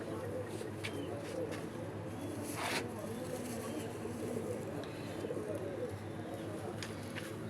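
Teddy pigeons in a loft coo softly and repeatedly among other pigeons, low rounded calls running steadily under a busy background with voices nearby.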